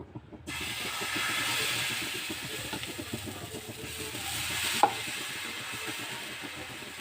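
Wheat flour adai cooking on a hot pan gives a steady soft hiss and sizzle throughout, with faint scraping ticks and one brief sharp tap near the end, and no voices.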